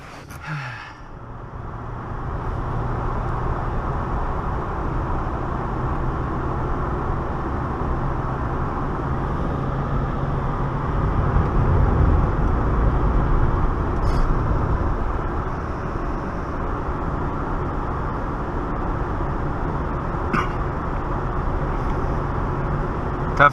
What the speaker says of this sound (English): Tough job driving those trucks along the Trans-Canada Highway in the winter.